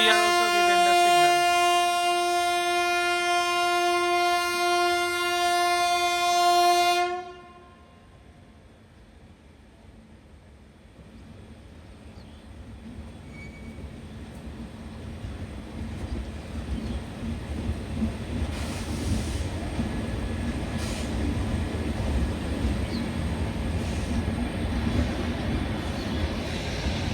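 The 12042 Shatabdi Express passenger train from NJP to Howrah opens with a long, loud horn blast, then settles into a low, steady rumble of running that slowly grows louder.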